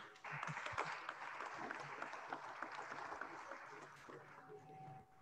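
Steady crowd applause with many overlapping claps at a panel event in Totonicapán, Guatemala, sustained at moderate volume throughout and tapering slightly at the end.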